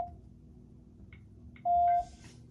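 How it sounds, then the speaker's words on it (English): A home alarm system keypad gives a few short electronic chirps, then one steady, louder beep lasting about half a second, followed by fainter tones. The sounds are close and crisp over low room hum. "This is my alarm system."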